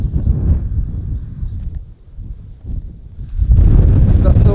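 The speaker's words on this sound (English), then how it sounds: "That's how windy it is as soon as you go out of the buildings." Gusty Saharan wind in Mauritania buffeting the microphone, rumbling low and uneven, easing briefly in the middle then surging back loud and sustained.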